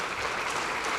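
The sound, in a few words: applause in the National Assembly chamber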